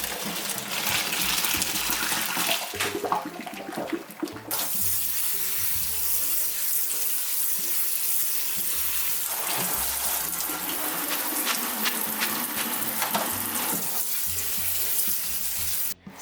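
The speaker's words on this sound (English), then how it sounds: "I'm going to rinse it with cold water" Cold tap water gushes steadily over drained spaghetti in a kitchen sink, a continuous close, loud splashing rush with brief shifts as the pasta is rinsed.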